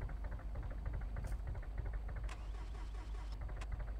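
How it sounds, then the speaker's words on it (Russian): A car engine knocks in the BeamNG.drive video game, giving a rapid, even tapping rhythm over a low engine hum that stays quiet and steady throughout. "Ага, все, мотор застучал. Я уже это слышу, мотор стучит."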